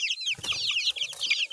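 Hungry young chicks peep continuously in high, rapid chirps close by, with a few lower clucks and faint shuffling underneath.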